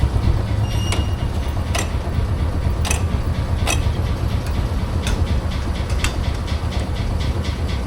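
A historic, century-old trolley streetcar rumbles along with steady low running noise, punctuated by sharp rhythmic clicks from the wheels and track joints roughly every second.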